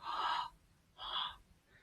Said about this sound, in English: If you take your hand and you just do like some mouth breathing on it